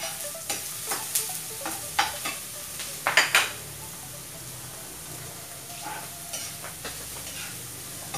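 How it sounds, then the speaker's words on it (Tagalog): Garlic sautés in a pan for pancit canton, a soft close sizzle broken by irregular scraping and clicking of a spatula stirring, with a few louder clatters and no talking. "Papulahin yung bawang."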